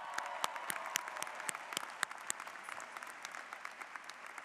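An audience at a 2024 University of Washington Communication graduation ceremony applauds the graduating Communication Leadership master's students with sustained, even clapping that sounds somewhat distant and soft, and a few sharper individual claps stand out.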